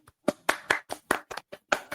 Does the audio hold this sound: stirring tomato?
no